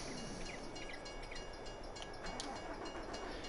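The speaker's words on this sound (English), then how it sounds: "He was hit by a freaking train." A train rolls past in the video game Farming Simulator 22, a steady rumble of rail noise with faint metallic squeals and clacks, continuous and fairly quiet, with no talk.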